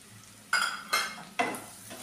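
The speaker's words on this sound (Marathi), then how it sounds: "व्यवस्थित फिरून घेऊया" Puffed rice, roasted peanuts and turmeric being stirred in a pan, giving three loud scraping, rustling strokes at a steady pace, each fading into a quiet sizzle.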